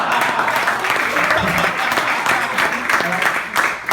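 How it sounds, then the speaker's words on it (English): Loud, sustained applause from an open mic comedy audience at Alliance Francaise, dense clapping filling the room throughout with no pause. "Don't applaud so loud."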